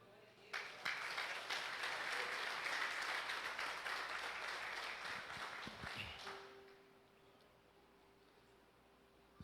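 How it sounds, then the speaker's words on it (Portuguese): Church congregation applauding during a sermon, a dense sustained wash of clapping that starts abruptly, holds steady for several seconds, then fades out into quiet room tone. "Aplauda o Senhor."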